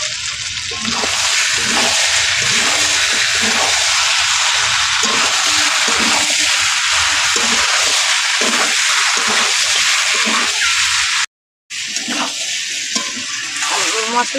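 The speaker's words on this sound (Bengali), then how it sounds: "এবার জল দিয়ে দেবো, এখানে দিয়ে দিচ্ছি গরম জল।" Hot water goes into a chicken and potato curry simmering in oil-rich fried masala in a village kitchen, giving a loud, continuous hiss and splashing bubbling that stops briefly near the end, with a voice talking over it.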